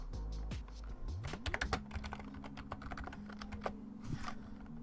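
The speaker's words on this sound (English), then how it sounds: "if I'm going silent, I'm literally just typing as well" A computer keyboard clacks with irregular keystrokes, some quick clusters and some single taps, close and clear over a faint background hum, with no talking.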